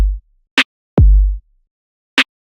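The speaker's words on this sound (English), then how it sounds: "the only other thing I've prepared is this drum rack" Sparse drum rack hits played back in Ableton: a low kick-like thump at the start, two short crisp hi-hat or clap ticks, and a deep booming kick with a falling pitch, each separated by silence.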